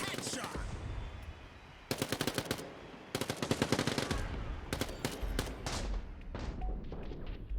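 Rapid SMG gunfire from the arena shooter Quake Champions, played in a 1v1 competitive match, comes in several loud, dense bursts of quick shots separated by short pauses.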